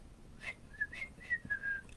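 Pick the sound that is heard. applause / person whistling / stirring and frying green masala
person whistling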